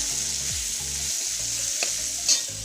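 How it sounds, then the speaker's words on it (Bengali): Beans and potatoes frying in a pan, a steady bright sizzle with occasional stirring scrapes and clinks, close and continuous with no talking. "আর এখানে এখন বিনস আর আলু ভাজা হচ্ছে।"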